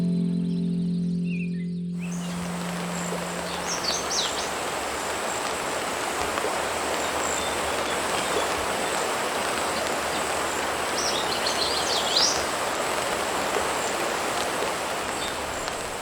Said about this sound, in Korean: 쏟아지는 빗소리가 지리산을 깨웁니다.